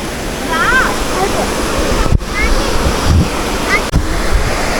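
A waterfall in Maredumilli roars in a loud, unbroken rush nearby, with gusts of wind buffeting the microphone and faint bird chirps.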